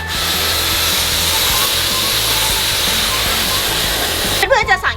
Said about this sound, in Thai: ถ้าหากว่าเราใช้เครื่องฉีดน้ำแรงดันสูงนะคะ เรื่องนี้จะไม่ใช่ปัญหาอีกต่อไปค่ะ